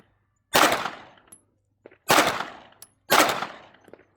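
Three loud, sharp pistol shots from a 2011-style handgun fired as a group at a target, spaced roughly a second apart, each cracking out and ringing briefly before fading, with no talking.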